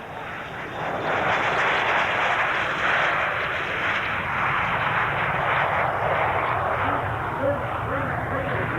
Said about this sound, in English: the Lockheed T-33 Shooting Star, on the takeoff roll.